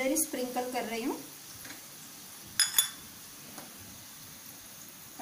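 Tadka spices fry with red chili for a dahi tikhari: a brief flurry of utensil clinks and stirring, then a soft, steady sizzle with another clatter midway.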